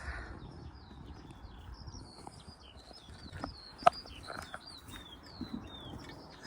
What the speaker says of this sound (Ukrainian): Пташки співають. Це, мабуть, жайворонок.